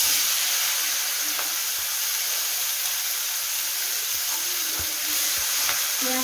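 Onions fry in hot oil with panch phoron spices, a loud continuous close sizzle with occasional light stirring clicks, no voices.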